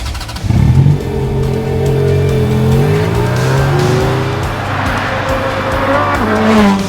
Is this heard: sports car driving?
yes